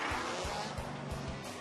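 Race truck with a Borla exhaust revving hard at a TORC off-road race, a loud buzzing engine howl with rhythmic low pulses and a hissing spray of noise, alone and continuous.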